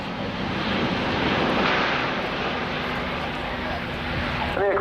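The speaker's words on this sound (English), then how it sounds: "The aircraft being turned is now into what will be a very tight 360-degree orbit in front of us." Airbus A400 military transport aircraft banking into a very tight 360-degree orbit during a display flight, its propeller engines a loud, steady broadband roar filling the whole clip.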